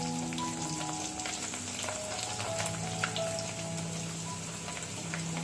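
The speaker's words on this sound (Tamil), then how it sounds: "பூண்டு கொஞ்ச நேரம் எண்ணெயில் ரோஸ்ட் ஆகட்டும்." Garlic sizzling steadily in hot oil in a home kitchen, a continuous crackling hiss with no speech over it.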